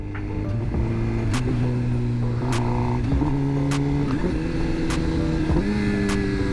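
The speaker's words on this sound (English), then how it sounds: "I can downshift without using the clutch too." A motorcycle downshifts without the clutch, its engine note dropping in several distinct steps with short blips between gears, loud and close under steady engine and wind noise.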